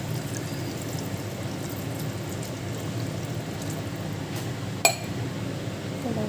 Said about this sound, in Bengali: এখন আমি এটার মধ্যে জল দিয়ে দেবো